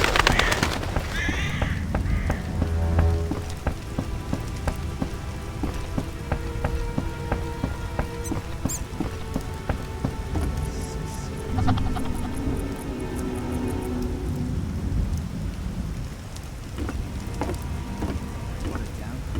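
Steady rain pattering on surfaces throughout in The Witcher video game, with scattered sharp clicks and taps layered over a continuous wash of drops.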